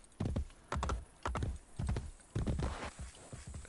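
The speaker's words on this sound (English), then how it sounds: "Come on, horsey, keep running." A horse galloping in the video game Assassin's Creed Brotherhood, a rhythmic series of clip-clop hoofbeat clusters repeating about every half second, fairly close and without voices.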